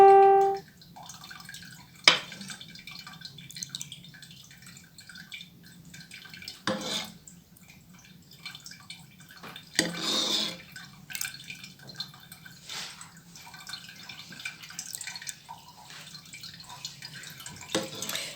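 Whey from homemade Turkish cheese drips slowly as the curds drain under a weight, giving soft irregular drips and trickles close by in an otherwise quiet room.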